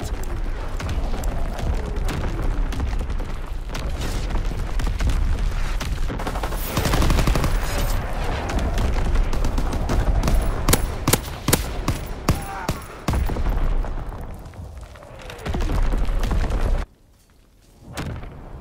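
Video game artillery fire thunders continuously, with dense overlapping booms, explosions and rapid gunfire, loud and sustained for most of the stretch before cutting away abruptly near the end.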